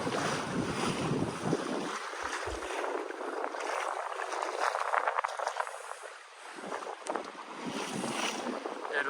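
A sailboat moves along at about 4 knots at sea off Greece, carrying steady wind rush and the wash of water along the hull, with close microphone buffeting throughout and no talk.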